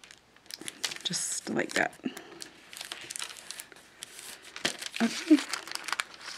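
Glassine paper bag being folded by hand, dry crinkling and crackling rustles close up, coming in bursts with brief pauses, while someone talks quietly over it.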